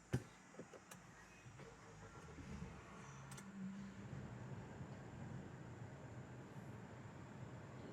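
Honda Ridgeline engine restarting, beginning with a sharp click and short thumps, then a low, steady engine hum settling into a quiet idle heard from inside the cab.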